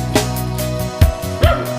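A dog barks a few short times on a coconut harvest outing, the sharp yelps spaced apart over a steady background hum, with no talking.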